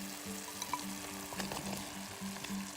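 Chicken cooking in a pan, a soft, continuous sizzle with light stirring clatter and a low background hum, fairly quiet and without talk.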